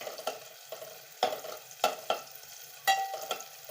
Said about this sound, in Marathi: म्हणजे कांदा बी परततोय आणि कारलं पण परतलं जाते.